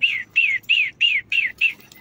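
Six short, bright chirping calls repeat at an even pace from a bird among pigeons on a rooftop. They are close and clear, with no talking.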